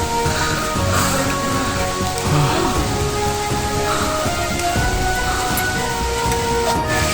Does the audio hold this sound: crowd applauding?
no